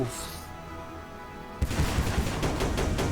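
A gunfire attack effect in the mobile game Last Origin opens abruptly after a quiet musical stretch, with rapid loud automatic shots crackling over game music.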